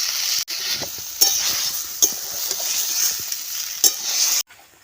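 Spice paste added to fried vegetables for a bitter neem jhol, sizzling loudly and steadily while a spoon scrapes and taps the pan several times, close by, ending in a sudden drop to quiet.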